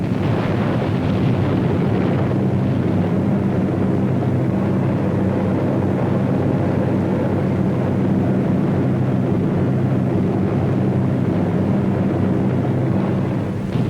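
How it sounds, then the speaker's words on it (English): B-26 Marauder bombers attack woods near Caen. A dense, continuous low roar of aircraft engines and heavy rumble holds steady and loud, with no voices. "Marauders attack the woods to the rear of the town"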